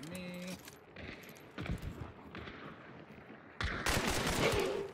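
Bursts of gunfire in a first-person shooter game, several loud broadband volleys spread across the moment, the heaviest sustained burst near the end, with a brief metallic jingle at the start.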